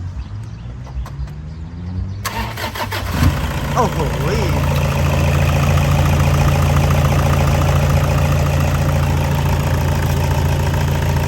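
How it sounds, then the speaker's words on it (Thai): A 2010 Toyota Vigo 2.5 pickup truck engine cranks and catches after a couple of seconds, then settles into a steady, loud idle with a low rumble; a voice exclaims briefly over it. "ลองสตาร์ทรถหน่อยครับ"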